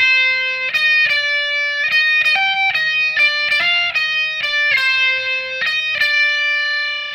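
Distorted electric guitar solo from a song, ringing sustained lead notes with quick note changes over about seven seconds, loud and steady with no talking.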